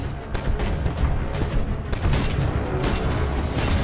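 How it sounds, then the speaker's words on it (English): Heavy 40mm tracker cannon fire from a Titan in the Titanfall 2 game, a dense run of booming, mechanical shots over a loud, continuous rumble with no pauses. "40mm tracker cannon"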